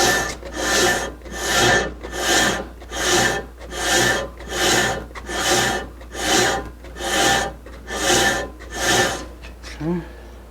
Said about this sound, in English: I'm going to go over to the belt sander instead and use the sander to get me that angle